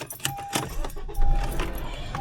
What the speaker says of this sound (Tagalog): Nakapaki-start na yung sasakyan.